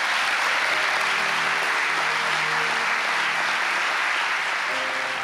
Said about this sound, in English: As soon as I finished and they were applauding